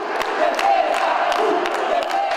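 A home crowd cheers at a city sports competition, a dense sustained roar of voices with whoops and shouts, loud and continuous throughout.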